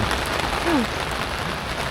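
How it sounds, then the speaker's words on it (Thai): Steady rain pattering on a surface, a dense hiss of drops throughout with a faint brief chirp partway in. "ฝนตกนะ"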